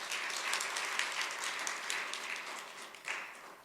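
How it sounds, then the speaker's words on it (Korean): A church congregation at a Sunday service gives the choir a warm round of applause, a continuous, fairly soft wash of many hands clapping without talk. "우리 찬양대 격려 박수 한번 부탁드립니다."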